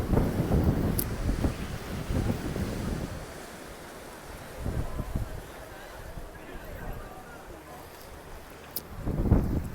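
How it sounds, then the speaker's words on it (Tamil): Sea waves crash and wash on the shore at Kanniyakumari, with a rumbling surge at the start, quieter swells in the middle and another swell near the end, under steady wind noise. "இந்த இடத்துல பார்த்தீங்கன்னா அலை சூப்பராக வருதுங்க"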